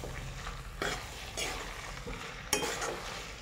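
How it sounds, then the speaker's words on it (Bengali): Malabar spinach with spices is stirred in a pan, giving a steady crackling sizzle broken by a few sharper scraping strokes, close and clear with no talking. "প্রথমে দেখুন নেড়ে চেড়ে নিচ্ছি, ভালো করে মশলার সঙ্গে মিক্সড করে নিচ্ছি।"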